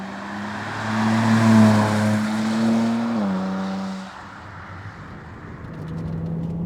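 A 2015 BMW E89 Z4 sDrive35is roadster drives under acceleration, its engine note climbing steadily, dropping at a gear change, then settling into a steadier drone with road noise, heard from inside the car.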